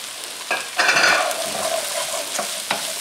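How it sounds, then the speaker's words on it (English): Chickpeas frying with aromatics in a hot pan, a steady broadband sizzle with a few sharper stirring scrapes and pops, close and moderately loud with no talk. "We're going to put this in with the aromatics. Cook these down a little bit. Throw in the chickpeas."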